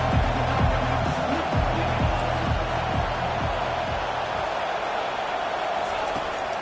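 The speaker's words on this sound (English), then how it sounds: "Listen to this crowd just shaking the girders of this place, trying to help their defense." A stadium crowd in the video game College Football 25 roars in a loud, steady wash across the whole stretch, with low rhythmic thumps pulsing underneath during a defensive stand.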